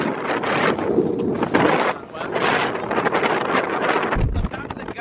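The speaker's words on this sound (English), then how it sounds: "the gusts are really strong right now" Powerful wind gusts during Hurricane Ian's Category 4 landfall roar in loud, buffeting surges against the microphone near the water, nearly continuous with brief lulls, as a person speaks beneath the blasts.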